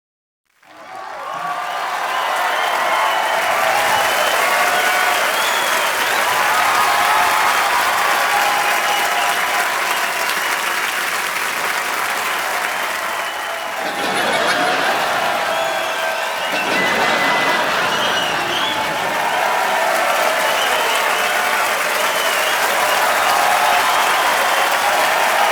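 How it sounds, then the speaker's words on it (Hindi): A studio audience on a Hindi comedy talk show bursts into loud, sustained applause that fills the whole stretch. It dips briefly midway, then swells again, with a dense wash of many hands clapping at once and no voices over it. "अनिल सर के लिए जोरदार तालियां"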